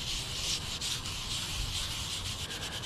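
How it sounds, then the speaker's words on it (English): Steady close rubbing and scrubbing as rust remover is worked into the metal surface of old woodworking machinery, a continuous abrasive hiss with no talk. "I'm just gonna keep rubbing that in"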